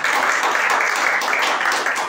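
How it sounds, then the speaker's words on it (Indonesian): A church congregation claps in praise during an Indonesian sermon, a loud, continuous wash of many hands that stays steady from start to end without letting up. "Tepuk tangan buat Tuhan Yesus Kristus"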